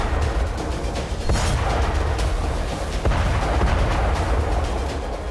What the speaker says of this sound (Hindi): रोमानिया के समुद्री तट पर एक बारूदी सुरंग में विस्फोट हुआ